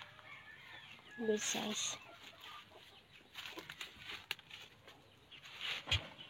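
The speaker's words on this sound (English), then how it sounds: "There's a big rooster there." A large rooster kept in a netted farm pen with turkeys gives a brief burst of clucking, close and fairly loud, while people talk nearby.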